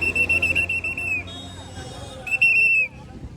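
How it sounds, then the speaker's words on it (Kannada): A shrill whistle at a Ganapati street procession is blown in two long, piercing blasts close to the microphone, separated by a short gap, over background crowd murmur and chatter. "ಸೀಟಿ ಬರೋಬ್ಬರಿ ಆತನದು."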